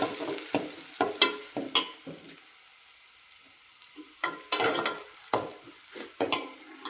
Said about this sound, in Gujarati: અંદર એડ કરશું ડુંગળી મિક્સ કરી લઈશું